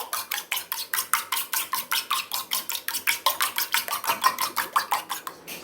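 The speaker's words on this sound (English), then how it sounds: "So now I'm just going to stir this." Steady rhythmic scraping of a spoon against a pot while stirring an egg, corned beef and cheese mixture for a breakfast sandwich, about thirty even strokes in quick succession, close and clear with no talking.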